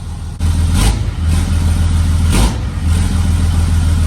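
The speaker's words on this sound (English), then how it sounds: "I can hear the exhaust now," A deep Cummins diesel truck engine with a 5-inch exhaust rumbles loudly and steadily, with a couple of brief revs pushing through a throaty exhaust, close by.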